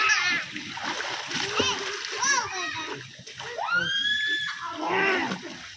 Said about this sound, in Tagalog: Langoy! Langoy! Pagpajak-pajak ka lang. Tumalon-talon ka.